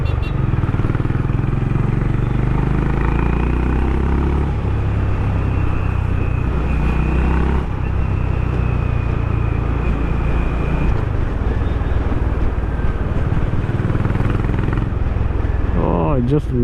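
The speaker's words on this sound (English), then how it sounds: "Oh, I just love this exhaust, man." A Honda H'Ness motorcycle exhaust thrums as a loud, continuous low rumble while the bike is ridden, its note shifting slightly in pitch with throttle, with a voice speaking intermittently over the engine.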